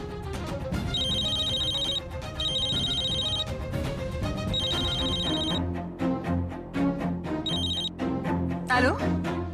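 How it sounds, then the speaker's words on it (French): A mother's phone rings in repeated bright electronic bursts, separated by short pauses, over background music. "Le téléphone de maman sonne."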